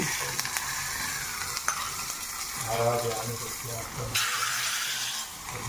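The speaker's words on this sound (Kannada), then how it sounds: "ಚಟ್ನಿಗೆ ಒಗ್ಗರಣೆ" Mustard seeds, chana dal and curry leaves sizzle in hot oil for a tomato chutney tempering, with steady frying hiss and a spoon stirring and scraping the pan up close, continuous throughout.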